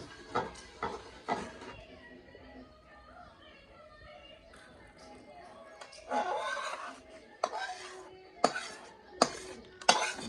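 Mohanthal made with desi ghee is stirred in a pan, giving intermittent metallic scrapes and clinks of a spoon against the pan in bursts, with quiet talk between them.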